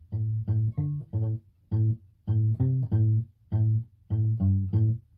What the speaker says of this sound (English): to palm mute, you pretty much use your palm and mute the strings